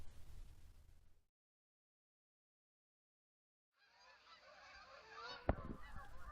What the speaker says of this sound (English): Geese are on the move.